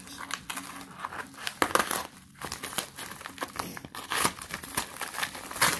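Heavily taped package being torn open by hand, with dense crinkling and ripping of tape and cardboard, several loud sharp tears among continuous rustling, close up and without talk.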